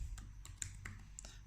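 Typing on a computer keyboard into a web browser: a handful of soft, scattered keystroke clicks spaced irregularly, faint and close over a low background hum.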